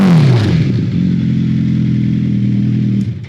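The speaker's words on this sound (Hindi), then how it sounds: "ये होती है क्वालिटी वाली योशिमुरा के डुअल एग्जॉस्ट है।" A superbike fitted with a Yoshimura dual exhaust revs hard, a steady loud engine roar held close up for a few seconds before dropping off at the end.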